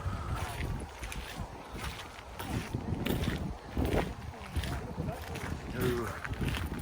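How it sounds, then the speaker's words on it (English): Wind blows through National Trust gardens at Hughenden Manor, gusty rushing and buffeting against the microphone rising and falling, while a person talks and walks over it. "Oh, the wind's picking up."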